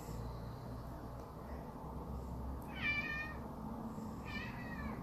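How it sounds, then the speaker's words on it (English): Two clear meows come from a house cat indoors, a short distance off, over a low steady room hum, the first around the midpoint and the second near the end. "there's my cat, she's just come home"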